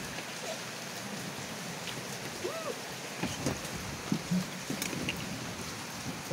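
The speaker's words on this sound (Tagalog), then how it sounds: "Napakalakas po ng ulan." Heavy rain on a wet morning in Taguig, a dense, continuous wash of falling water with scattered nearer drips and splashes, with faint voices and a few knocks in the background.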